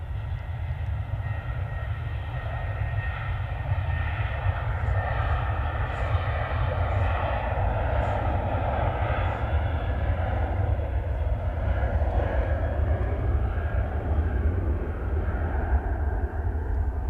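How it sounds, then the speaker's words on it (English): A Ryanair jet airliner roars through its takeoff roll, a sustained heavy engine rumble with a broad whining tone, steady and strong throughout, heard from some distance with no talking. "Okay, Ryanair's on the roll."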